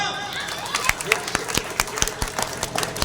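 Audience at a Hindi poetry gathering clapping in scattered, uneven bursts, sharp individual claps standing out over a steady crowd murmur and faint talk.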